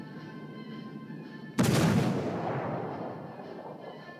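Warship main-battery shells fire in World of Warships: Legends, a single sudden heavy boom at about 1.6 seconds that rumbles and decays slowly over steady background game hum.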